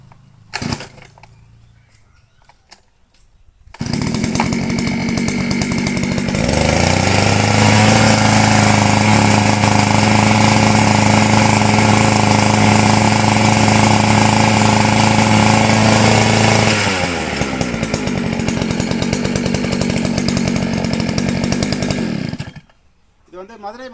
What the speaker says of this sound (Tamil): சும்மா வண்டியை ஸ்டார்ட் பண்ணி ஓட்டி காட்டுறோம் பாருங்கள்.